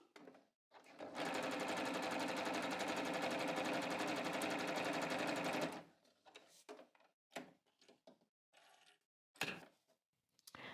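Sewing machine stitching a pant inseam in one continuous run of about five seconds, close and steady, followed by faint handling clicks and rustles of fabric.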